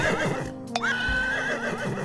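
A single close horse neigh triggered by a button in the video game Horse Magnifier, a sharp whinny that rises, then trails off in a wavering tail, with no talking.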